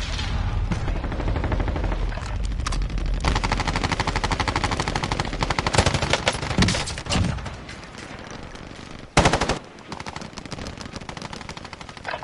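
Rapid automatic gunfire in the shooter game Warzone, long dense bursts of close, loud shots with brief pauses and a final louder burst after a short gap.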